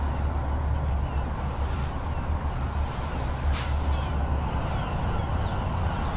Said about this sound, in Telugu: ఇంజన్ స్టార్ట్ చేయమ్మా.